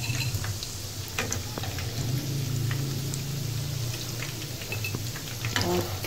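Chicken nuggets fry in hot oil until golden, giving a constant close crackle and bubbling sizzle with scattered sharp pops throughout.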